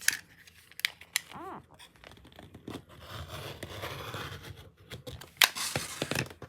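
Scissors cut through doubled-up fabric for scrunchies, several crisp snips and a longer slicing cut up close, mixed with faint fabric rustling and handling noises, no voices.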